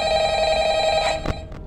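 A telephone rings in the video game FNAF Ultimate Custom Night, a loud electronic trill that holds for about a second and then breaks off with a couple of sharp clicks.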